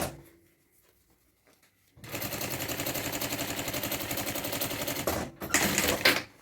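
A sewing machine topstitching a thermal bag, running steadily at close range with a fast, even rhythmic chatter for several seconds after a quiet start, then pausing briefly and running again.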